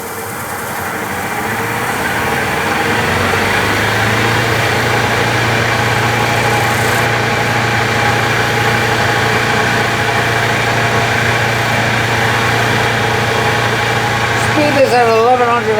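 A wood lathe runs at high RPM turning two pieces of sleeper wood at once as a spindle, giving a steady loud motor whine and hum that holds throughout, close by, with a brief scraping flutter near the end.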